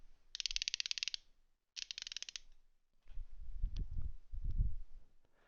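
A Harbor Freight 3/8 ratchet clicking in two rapid bursts of fine, evenly spaced ticks, then duller handling and mechanical knocks, close and alone.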